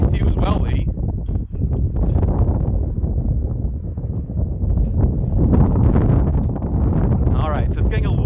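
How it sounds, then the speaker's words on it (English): Wind gusts buffet the microphone high up on a ropes course, a loud, continuous low rumble that swells and eases throughout, with a voice heard speaking over it. "it's getting a little bit windier up here"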